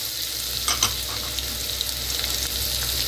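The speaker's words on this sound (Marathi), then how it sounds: "आता आपण कांदा टाकून घेऊया" Onion fries in hot oil for chana masala, giving a steady close sizzle with a few light stirring clicks throughout.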